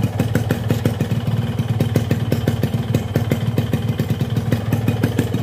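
Two-stroke motorcycle engine running on Global Petro America X1 2T oil idles steadily up close, with a fast, even popping rhythm and light mechanical clatter and no talk over it.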